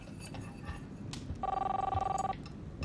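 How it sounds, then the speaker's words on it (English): A telephone rings in the video game Life Is Strange, one clear electronic ring burst in the middle over quiet background game sounds. "Oh, there's the phone."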